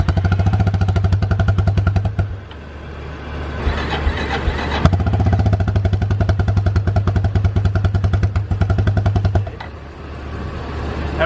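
Ford Ranger truck engine running roughly at idle, a loud, close, uneven low rumble that sags and nearly dies twice, then picks back up and keeps chugging.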